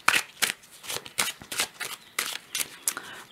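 Tarot-style cards are shuffled for a card reading, about ten quick riffling bursts in an uneven rhythm, close and fairly loud, with no talk.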